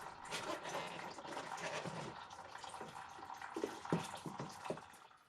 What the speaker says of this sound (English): While the coolant's draining